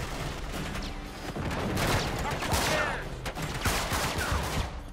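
Heavy gunfire from the Uncharted 3 video game rattles in a dense, continuous burst of rapid shots with booming impacts, loud and busy from start to finish.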